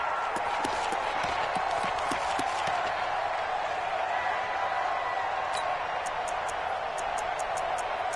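Stadium crowd noise at a Patriots vs Bills football game forms a constant roar with scattered claps and whoops, with commentators talking over it.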